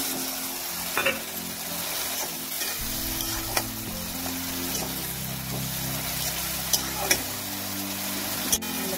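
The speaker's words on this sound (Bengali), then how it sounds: "এবারে হলুদ, জিরে, লঙ্কার পেস্টটা দিচ্ছি।" A paste of turmeric, cumin and chili fries in a pan with a continuous close sizzle and occasional sharp clicks of stirring over a low steady hum.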